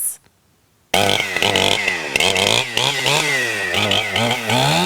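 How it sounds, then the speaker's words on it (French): After a moment of quiet, a chainsaw roars to life and runs loud and close, felling old cypress trees, its pitch rising and falling as it bites and revs. "Quelques coups de tronçonneuse auront suffi pour abattre ces cyprès âgés de 60 ans."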